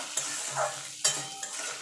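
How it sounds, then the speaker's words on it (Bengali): Onion and potato frying in a pan while being stirred, a soft steady sizzle broken by a couple of sharper scraping stirs, close and fairly quiet with no talking. "এবার পেঁয়াজ আর আলুটা একটু ভাজা ভাজা করে নেব"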